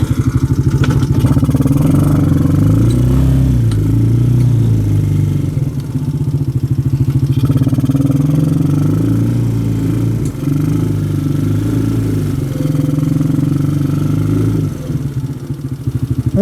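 Off-road motorcycle engine on a forest trail starts up and runs, a loud, close, rough mid-pitched thrum with clattering and shifting revs holding steady for the whole stretch, no talking over it.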